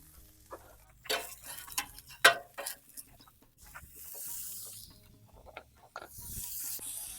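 Pre-seasoned Philly-style sirloin steak meat cooks in a little oil on a Blackstone griddle. A faint sizzle rises and falls, broken by brief spatula scrapes and taps.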